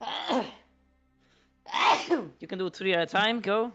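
A single sharp human sneeze bursts out at the start, followed by a quiet gap, a second noisy outburst, and then a person talking.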